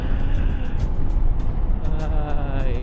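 Engine and road noise of a four-wheeled vehicle overtaking on the right on a main road, a steady loud rumble with brief higher tones, while someone talks over it.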